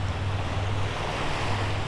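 Ocean waves wash onto a Gulf beach in a steady, continuous rush of surf, with low wind rumble against the microphone and no voices.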